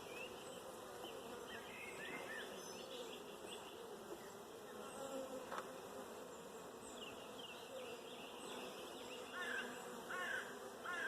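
A steady, dense hum of many honey bees swarming around an open hive in a garden apiary, continuous and fairly faint, with occasional nearer buzzes passing by and distant crows cawing in the background.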